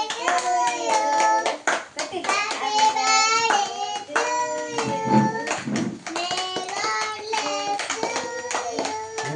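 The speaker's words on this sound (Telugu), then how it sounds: "చప్పట్లు కొట్టు కొట్టు క్లాప్స్ కొట్టు వెరీ గుడ్" Children clap at a small home fifth-birthday celebration, with sharp, irregular hand claps scattered among voices that talk and sing throughout, close and fairly loud.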